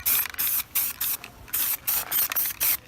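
Aerosol spray can priming a car strut bar link for a Hyundai Tiburon, about seven short hissing bursts in quick succession, loud and close.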